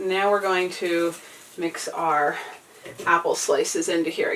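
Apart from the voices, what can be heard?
None of the usual background noises is heard.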